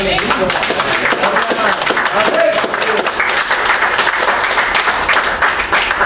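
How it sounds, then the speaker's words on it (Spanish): A church congregation claps together during an evangelistic Spanish-language service, dense and loud for several seconds with voices mixed into the sustained applause. "¿Cuánto le damos palmas a Dios?"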